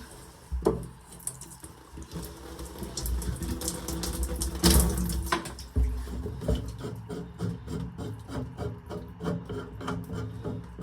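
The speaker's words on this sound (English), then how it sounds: "we'll just crack the nuts, just letting some air into the pipework to drain the water." A spanner cracks open the nuts on a shower valve so water can drain from the pipework, with close scraping and rubbing of metal, a few sharp clanks and a steady trickle of running water.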